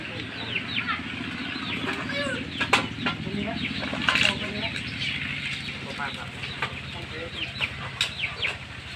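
Chickens cluck and chatter repeatedly close by, with occasional wing flaps, and a person speaks intermittently over the farmyard noise.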